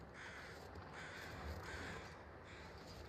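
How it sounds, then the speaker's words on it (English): Crows caw in a snowy wilderness within the survival video game The Long Dark, a few harsh calls carrying at moderate distance over a steady ambient wind bed, with no talking. "There crows."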